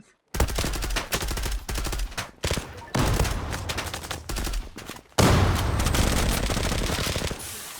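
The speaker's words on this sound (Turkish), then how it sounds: "Ben de anlamadım ki düz sıkıyorum ya" Rapid automatic gunfire from the online shooter Zula during a competitive match, loud, close bursts with short pauses between volleys and a heavier burst near the end.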